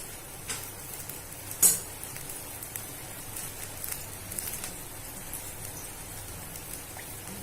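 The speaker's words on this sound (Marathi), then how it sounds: "पाण्याला छान उकळी आलेली आहे" Water at a rolling boil in a pot on a gas stove, being readied for ukadi modak dough, gives a faint, steady bubbling patter with one brief sharper knock near the start.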